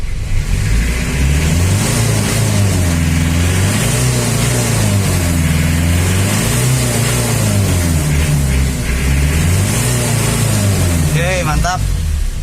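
An Isuzu Panther 2.3 diesel engine is revved hard during a tune-up, its loud rough note rising and falling in repeated throttle blips throughout, with someone talking over it and a brief whistle near the end.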